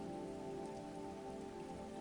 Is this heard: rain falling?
yes